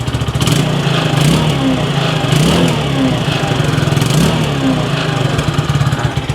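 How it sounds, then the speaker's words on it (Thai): A nearby GPX Demon GR150R motorcycle (2019, stock exhaust) runs loudly, revving up in a few short rising bursts over a constant rumbling drone. "ลองเบิ้ลกันสักนิดนึงนะ ดูว่ามีควันไหม"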